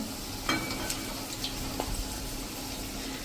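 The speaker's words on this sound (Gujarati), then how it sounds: "આપણે આને હલકા ગોલ્ડન કલર જેવા તળી લેશું" Bajra vada frying in oil on a slow-medium flame, a steady soft sizzle with faint bubbling and a few light ticks from stirring or turning.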